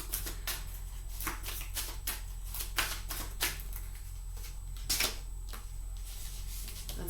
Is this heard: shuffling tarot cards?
yes